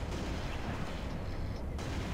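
Sniper rifle fire in Halo: The Master Chief Collection, a dense, loud burst of booming shots with no gaps between them.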